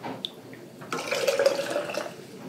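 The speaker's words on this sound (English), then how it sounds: "I put that in my funnel, and then I just filter my broth through that to get any little bits out." Chicken broth pours through a small sieve set in a funnel, giving a soft steady trickle and splash of liquid after a brief clink at the start.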